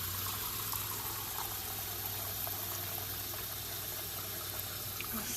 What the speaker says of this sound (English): let's get some water. All right, here we go. We're gonna get some in this bowl.